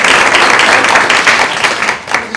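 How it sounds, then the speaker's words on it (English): Audience applause for a distinguished panel at a K-16 research-practice partnership symposium, a steady dense wash of clapping held at even loudness, tapering slightly near the end. "can we get a round of applause for our distinguished panel?"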